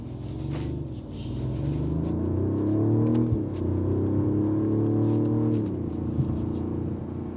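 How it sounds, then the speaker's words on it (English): A 2025 Mercedes-Benz CLE 450 exhaust drones from inside the quiet cabin while accelerating, a low steady rumble whose pitch climbs through the gears with brief dips at the shifts. "All I hear is the exhaust."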